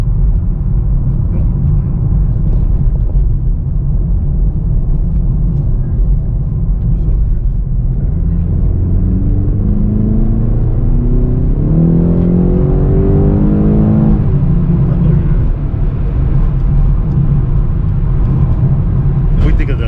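A BMW X5M SUV accelerates, its engine rumbling low and then climbing in pitch through a strong rev before easing off, heard from inside the cabin with a steady road roar.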